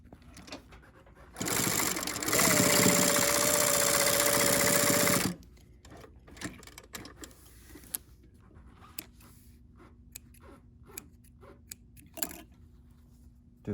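A sewing machine runs a seam on a fabric face mask in one sustained burst of about four seconds, followed by quiet handling clicks and fabric rustles.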